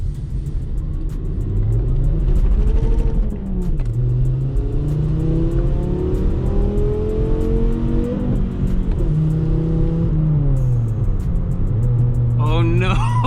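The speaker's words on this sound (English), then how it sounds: "I can hear the exhaust leak" A lowered VW Mk5 on Koni STR.T dampers and Eibach springs, its flex pipe torn by wheel hop and leaking exhaust, rumbles and revs loudly with rising and falling engine tones throughout; the exhaust note is raspy and close.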